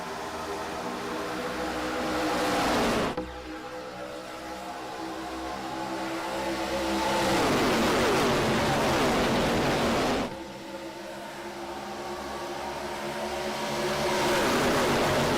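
Stock cars at the Sundance Pizza 250 roaring past after the green flag, a continuous loud engine drone that swells and drops sharply twice as the pack sweeps by, with faint commentary underneath.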